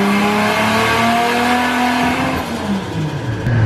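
Toyota Supra with an upgraded Haltech ECU running hard on a dyno, the engine loud and close as it climbs through a sustained rising pull, then its pitch drops and wavers near the end.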